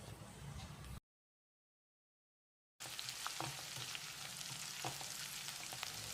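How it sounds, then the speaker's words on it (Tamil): Chopped small onions (shallots) sauté in a pan with curry leaves and two dried red chillies, giving a steady, soft sizzle and crackle that cuts out completely for about two seconds before resuming. "வெங்காயத்தை செவந்து வர்ற அளவுக்கு வதக்கிடலாம்."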